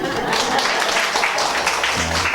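A church congregation at a Korean morning worship service claps briefly and steadily, and a voice speaks over the clapping near the end.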